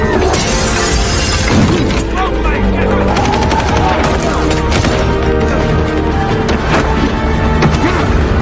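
Computers being smashed and destroyed in an action movie scene, a dense barrage of shattering crashes and rapid gunfire-like bursts, loud and continuous, with voices occasionally mixed in.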